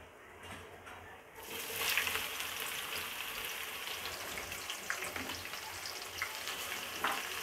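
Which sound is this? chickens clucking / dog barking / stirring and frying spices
stirring and frying spices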